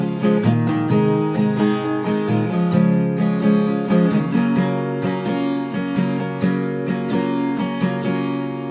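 An acoustic guitar with a capo strums a pre-chorus chord progression in a steady rhythm, with full, sustained chords ringing out close and loud with no voices.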